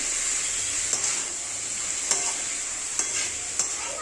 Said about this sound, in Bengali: তারপরে ধুয়ে রাখা মোচাটা দিয়ে দিলাম